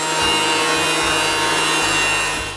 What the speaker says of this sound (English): I run all the strips through the thickness planer.